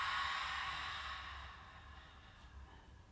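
A long, soft exhale during family yoga, a breathy sigh that fades gradually over about three seconds, close and gentle with no talk.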